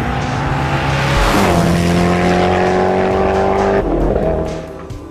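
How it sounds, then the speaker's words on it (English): A Koenigsegg Agera R supercar drives hard, its engine roaring loudly up through the gears with a sharp pitch drop at each shift, tires squealing briefly, before the sound eases off near the end. "What matters is that this is a uniquely savage supercar"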